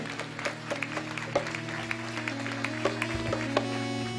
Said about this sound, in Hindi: सभी एक बार जोरदार तालियों से उनका स्वागत करेंगे।